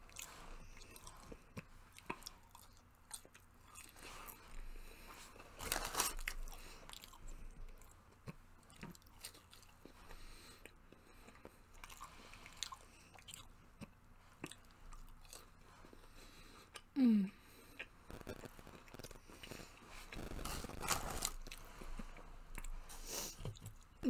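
Quiet close-up chewing and crunching of Burger King onion rings, nuggets and fries, soft bites and wet mastication spread across the stretch with occasional louder crunches.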